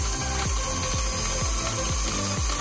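A mixer turns slowly while evaporated milk is poured in for pili pulp ice candy, giving a close, loud, steady mechanical whir with regular ratcheting clicks about every half second.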